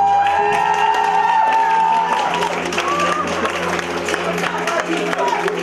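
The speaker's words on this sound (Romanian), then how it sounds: "Vă rog să ne aplaudați" Wedding guests applaud and cheer through the couple's first dance, a steady wash of clapping with scattered whoops under loud music and voices.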